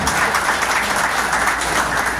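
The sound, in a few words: audience applauding at a conference rally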